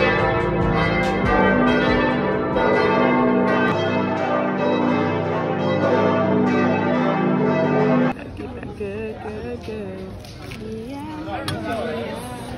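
Church bells peal loudly from the bell tower of the Duomo in Florence, a long sustained ringing with overlapping tones, then cut off and replaced by louder, nearer crowd noise and voices.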